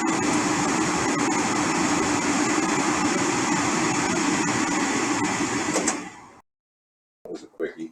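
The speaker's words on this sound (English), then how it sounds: "I'm going to throw the fan on" A kitchen exhaust fan hums and whooshes steadily and loudly for about six seconds, then cuts out to silence before brief talk.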